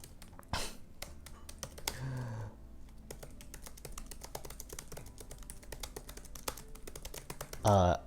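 Rapid, uneven clicking of keys on a computer keyboard as a novel is typed out, with brief louder clacks and bursts of a voice speaking between stretches of typing.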